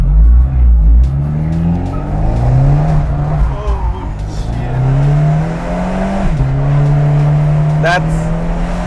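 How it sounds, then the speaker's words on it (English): An Abarth 124 Spider or Mazda Roadster engine revs and tires squeal in long rising and falling whines as the car drifts sideways, loud and close, with voices talking over it. "We're gonna do a slight drift."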